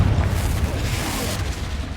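The Confringo blasting spell detonates in the Hogwarts Legacy video game, a heavy booming explosion with a deep low rumble that rolls on loudly and evenly for a couple of seconds.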